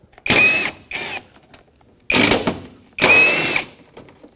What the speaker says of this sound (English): Both are 10mm in size, so use a 10mm socket and remove them both.